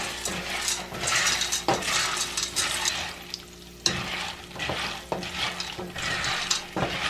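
Noodles fry in hot oil for Mexican picaditas, a steady broadband sizzle with repeated stirring scrapes and spoon knocks against the pan, close and continuous throughout.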